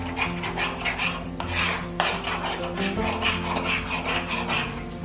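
A utensil scrapes and clinks steadily against a pan while tomato puree is mixed in during vegan pizza prep, close and continuous with no talking.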